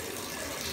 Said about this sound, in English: I'm getting that water for my cat